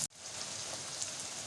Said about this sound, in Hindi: इसी तेल में हम फलियों को फ्राई करेंगे।